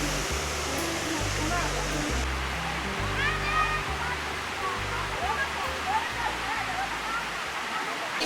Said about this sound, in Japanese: 長い道のりを歩いて今一番下の滝まで来ました。